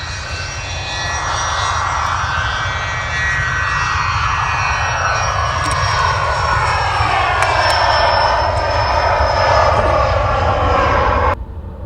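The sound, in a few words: private jet taking off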